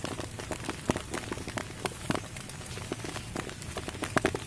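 Rain patters on leaves and ground outdoors, a faint, irregular scatter of drops and taps over a soft wash of background noise.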